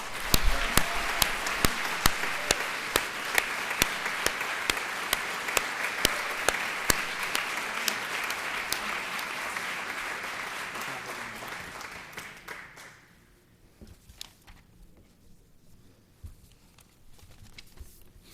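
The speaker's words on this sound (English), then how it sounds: "I got to give them one more round of applause" Audience applause at a police department service awards ceremony, sustained clapping from a large crowd for about twelve seconds before thinning to scattered claps.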